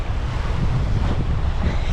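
Strong gusting wind roars across the microphone with rough sea and waves slapping a sailing boat, a steady loud broadband rush without voices.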